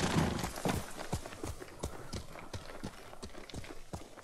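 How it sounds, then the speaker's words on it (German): A horse in the video game Ghost of Tsushima trots with a steady clip-clop of hooves, quiet and rhythmic, with no talk over it. "Ein kleines Pferdchen."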